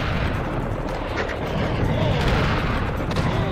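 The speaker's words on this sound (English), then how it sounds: "Destructible environment. I blew up the statue." A statue blown apart by rockets in the video game Serious Sam: The First Encounter, producing a sustained, dense roar of explosions and rumbling debris, loud and continuous throughout.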